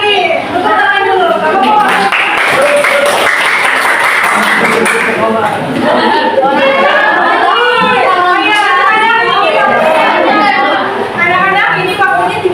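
Pupils in a classroom clap, with loud, dense chatter of children's voices running over the handclaps the whole time.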